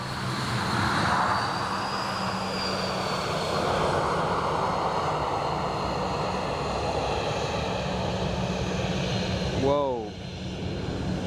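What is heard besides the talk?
airplane approaching and landing at Dublin Airport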